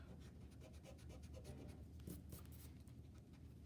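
Pencil eraser rubbing back and forth on paper over a first-grade leaf rubbing drawing, a quiet rhythmic scrubbing of quick repeated strokes, close and faint, with no speech.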